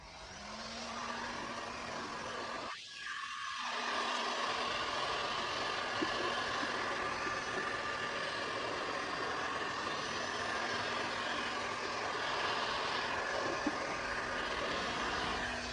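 A heater blows hot air onto glue on the rear controller of an OBARTER X3 electric scooter, a loud steady rushing hiss that runs the whole time with one brief dip early on.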